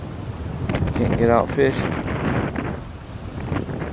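Strong gusting wind buffets the microphone in low rumbling blasts at Possession Point while a person speaks briefly over it during whale watching.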